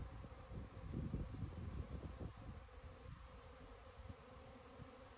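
A honey bee swarm in spring buzzes as a faint, continuous drone, swelling slightly near the start and then holding steady with light rustling; no voices.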